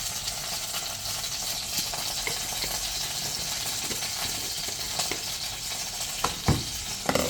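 Garlic and a spoonful of sugar frying in a hot pan for Thai Pad Krapow give a steady close sizzle throughout, with a few soft stirring scrapes and light clicks near the end.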